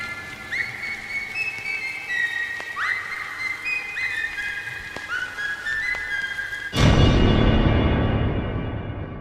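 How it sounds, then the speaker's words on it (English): A familiar whistled melody from a Bendy and the Ink Machine trailer plays in a series of clear sliding notes, then gives way abruptly to a loud wash of noise near the end. "Then we hear that familiar whistle tune at the end of the trailer"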